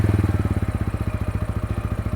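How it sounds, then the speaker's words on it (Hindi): A TVS Ronin 225 motorcycle with a 225 cc engine gives its exhaust note close by, a steady, rapid, rhythmic thumping idle pulse that runs throughout with no talk. "मैं चाहता हूँ कि आप इसका एग्जॉस्ट नोट भी एक बार सुन लें"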